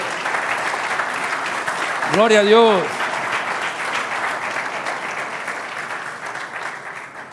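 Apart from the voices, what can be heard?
congregation applause in church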